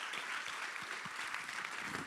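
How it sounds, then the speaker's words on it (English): A crowd at an award ceremony claps in a sustained, dense round of applause, even and moderately loud from start to finish with no speech over it. "a big round of applause to them"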